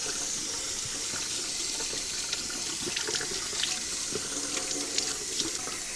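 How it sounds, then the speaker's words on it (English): Running tap water splashes steadily into a sink while salt-cured bacon is rinsed beneath it, a close, continuous hiss and patter with small irregular drips, no voices. "John is going to rinse it and put it in a bowl of water to soak"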